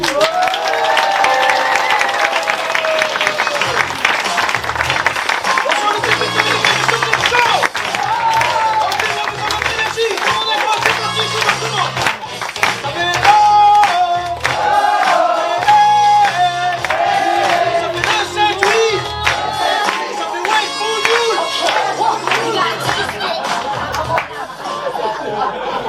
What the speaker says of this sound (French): applaudissements pour Sofiane et Taï.